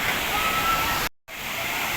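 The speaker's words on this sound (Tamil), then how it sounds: "சூப்பராக இருக்குது தண்ணி கடுமையாக அருமையாக வருது மேலேருந்து" Thirumoorthy waterfall in Tamil Nadu pours in a loud, steady rush of white-noise water, close by, broken by one brief cut to silence.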